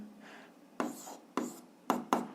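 A pen writes out an algebra solution on paper in short, quiet scratching strokes, four or five distinct scribbles with brief pauses between them, close and faint.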